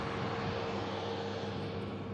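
An EasyJet airliner rotates on takeoff, bound for Charles de Gaulle: a faint, distant, steady engine drone with a low hum runs unbroken through a brief moment, with no voices.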